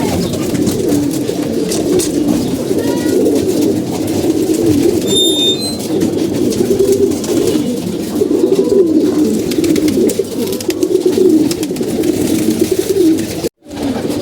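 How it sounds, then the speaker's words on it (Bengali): Pigeons coo steadily in a close, continuous low murmur of overlapping calls with no voices, and a brief higher chirp rises above them midway. "কবুতরগুলোতে ভিডিও করতে আসছি কবুতরগুলো দেখতে পাচ্ছি"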